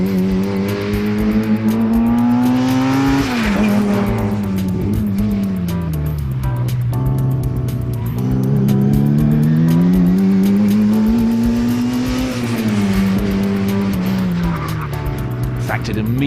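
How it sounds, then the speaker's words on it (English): A Mini with a 1460 cc A-series engine is driven hard through bends, its engine note rising and falling with gear changes and throttle, with some tyre squeal, loud and continuous throughout. "that 1460 engine really sounds the part. You can tell it's an A-series"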